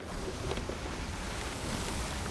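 Sea waves and surf in the video game Sea of Thieves wash steadily as a constant broadband rush, with wind noise, heard alone and fairly loud throughout.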